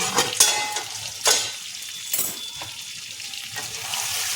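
Arbi (taro root) masala fries over high heat in a pan, with steady sizzling and a few distinct scrapes and clinks of a spoon stirring against the metal, no voices.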